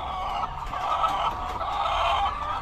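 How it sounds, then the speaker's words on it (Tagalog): Large egg-laying hens make a busy morning racket, several birds clucking and cackling together nearby in a continuous, fairly loud chorus with no talking. "kada umaga nag-iingay yung mga manok na yan"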